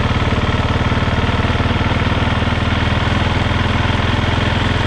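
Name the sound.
KTM 690 Enduro R motorcycle engine at low speed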